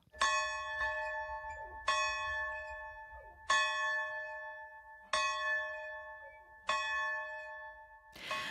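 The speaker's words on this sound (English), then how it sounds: "That is the bell at the Vaita Catholic Church, which closed 13 years ago due to low attendance." The bell of the Catholic church in Vita, Manitoba, closed for years, tolls five times at slow, even intervals, each clear ringing strike lingering and fading before the next, heard alone.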